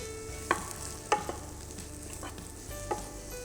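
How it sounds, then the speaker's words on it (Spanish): Mushrooms sautéing in a pan while being stirred, a quiet low sizzle broken by a few sharp scraping knocks of the utensil, no talking. "en cuanto incorpore los champiñones voy a ir removiendo todo el rato"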